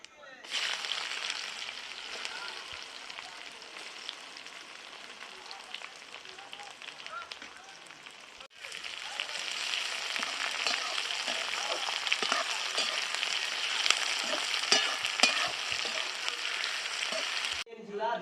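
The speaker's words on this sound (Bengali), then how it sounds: "তেলে ফোড়ন দিয়ে দিচ্ছি, শুকনো লঙ্কা, তেজপাতা, জিরে। কুচিয়ে রাখা পেঁয়াজগুলো দিয়ে দিচ্ছি।" Chopped onions hitting hot oil already tempered with dried red chilli, bay leaf and cumin, giving a steady, moderately quiet sizzle that jumps louder halfway through as more goes into the pan, with no talk over it.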